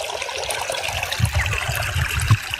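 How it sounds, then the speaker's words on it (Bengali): Irrigation water pours steadily across potato fields outdoors, a continuous rushing trickle with a few soft low thumps and no voices. "সবাই এখন জমিতে জল দিচ্ছে প্রথমবারের মতো।"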